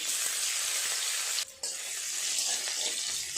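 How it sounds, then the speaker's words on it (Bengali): Chopped onion frying in hot oil in a kitchen: a steady, close hiss of sizzling with a brief drop around the middle, then continuing evenly, no voices. "পেঁয়াজটা ভাজা হয়ে গেছে"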